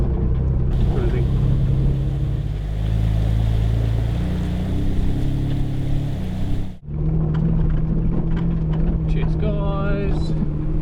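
A 4WD vehicle driving a gravel track near Macetown in New Zealand, with a continuous close engine rumble and road noise, a brief dip midway, and a voice talking over part of it.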